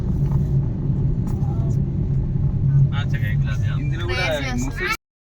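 A car travelling a quiet mountain ghat road toward Araku gives a steady, close, low engine and road rumble from inside the cabin, with voices talking over it near the end before it cuts off.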